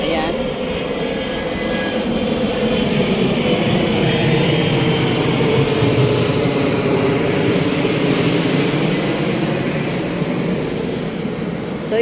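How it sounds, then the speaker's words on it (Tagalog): An airplane passes low overhead near an airport beside a bougainvillea garden, its engine drone loud and sustained throughout, with someone talking over it. "pasensya na may dumaan na eroplano. Malapit lang kasi kami sa Clarks."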